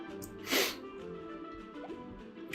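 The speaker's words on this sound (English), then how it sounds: "Hold on, I have to sneeze." One person sneezes a single time, a short sharp burst near the start that stands out from a quiet room, followed by faint shuffling and small noises.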